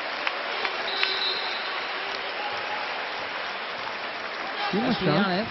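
Sustained crowd applause fills a basketball arena, Arena Botevgrad, during a Bulgaria–Slovenia EuroBasket qualifier as a player fouls out; steady broadband clapping and crowd noise throughout, with a commentator's voice rising over it near the end.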